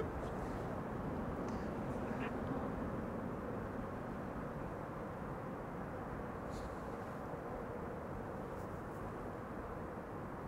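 A Qatar Boeing 777 taxis after pushback at an airport, its engines a steady, broadband rumble and roar that holds level throughout with no talk over it.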